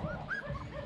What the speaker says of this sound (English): A whole litter of puppies.